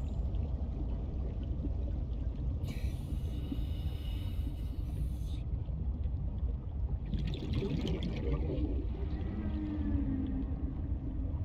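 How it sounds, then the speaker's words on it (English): Low, drawn-out whale calls rumble through murky underwater ambience in the survival game Subnautica, with a faint watery wash and a couple of brief hissing swells rising above the steady background. "Maybe they're just whales."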